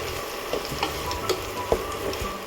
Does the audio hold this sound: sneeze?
no